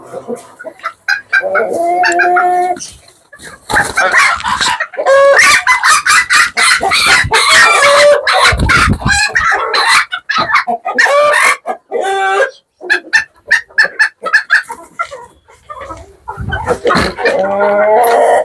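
Small-sized chickens on a poultry farm clucking and crowing continuously and loudly, with a rooster's crow rising among dense, overlapping hen calls.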